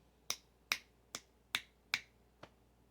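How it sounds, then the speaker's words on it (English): Six crisp finger snaps ring out alone at a steady pace, close and sharp, and the last one is a little softer than the rest. "That's what the snapping my fingers means"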